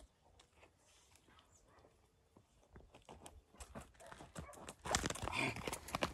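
A mare on a rural farm smallholding moves about, her hooves clopping unevenly, growing louder and denser toward the end, with someone talking intermittently nearby.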